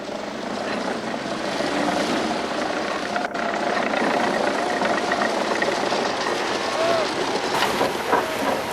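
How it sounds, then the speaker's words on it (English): Tractor engine drones steadily while driving across Antarctic sea ice at a Weddell seal study site, a loud continuous rumble with a mechanical whine, and voices talk briefly over it. "we drive over the ice in tractors"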